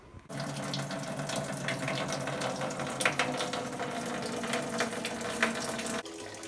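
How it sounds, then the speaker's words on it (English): Homebrewed raw wheat beer wort runs off from the kettle into a fermenter after a whirlpool, a steady close rushing pour of liquid that starts and ends abruptly. "Run it off into the fermenter and let it cool."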